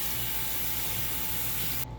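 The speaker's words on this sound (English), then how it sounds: "Go ahead and give it a good rinse." Water from a tap spraying in a steady close hiss, rinsing a freshly cleaned red tail surf perch, then cutting off abruptly at the end.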